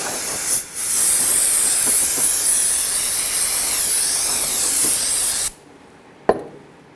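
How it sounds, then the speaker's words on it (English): A steady, loud hiss of an aerosol can spraying solvent onto a 1997-2006 Jeep Wrangler rear axle during seal replacement, held for several seconds, then released, followed by a brief click. "Let's go ahead and spray it down with some solvent."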